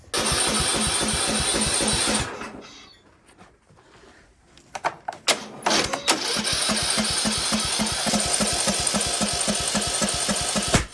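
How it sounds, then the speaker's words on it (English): A 1953 Willys CJ3B engine cranks in rapid rhythmic bursts, sputters and backfires with sharp pops before the starter whirs again, loud and close, with no talking. "quite the backfire"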